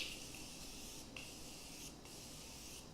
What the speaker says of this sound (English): I'm going to spray my face using the Continuous Setting Spray by Morphe